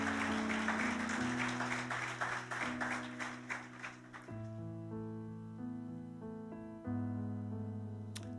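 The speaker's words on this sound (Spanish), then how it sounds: "Tuyos son los aplausos y toda la gloria." A church congregation applauds with soft, rain-like clapping over sustained organ or keyboard chords; the clapping fades out after about four seconds, leaving the music to carry on alone.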